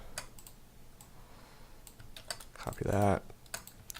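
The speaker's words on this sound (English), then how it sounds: "I am typing on all this" Fast typing on a computer keyboard, a steady patter of close, crisp key clicks with a brief voice speaking over it partway through.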